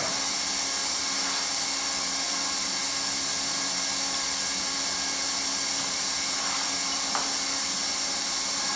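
A hot air welding gun blows a steady high-pitched hiss while weld rod is fed into a seam in vinyl sheet flooring, a continuous faint airy whine with no talking.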